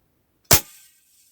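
A single sharp shot from a Crosman 2250B CO2 air rifle with a leaking gas seal, close and loud against silence, followed by a brief hiss that fades.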